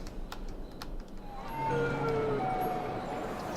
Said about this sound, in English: That was the saddest siren I've ever heard.